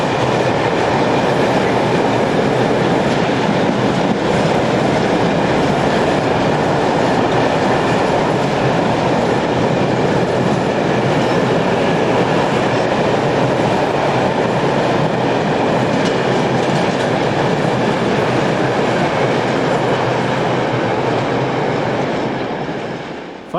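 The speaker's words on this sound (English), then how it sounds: "152-156 heads the northbound container train on 17th June" Locomotive 152-156 hauling a northbound freight container train past at Gmunden, a steady loud roar of wheels and wagons with rhythmic clatter holding throughout, close by and continuous, fading slightly at the very end.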